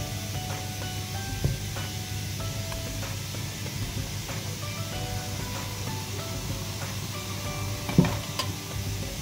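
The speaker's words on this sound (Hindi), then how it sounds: "इन ड्रम स्टिक्स को लहसुन अदरक के साथ हम फ्राई करते हैं" Chicken drumsticks fry in a pan with chopped garlic and ginger, a steady sizzle with occasional clinks of a stirring utensil, close and continuous without speech.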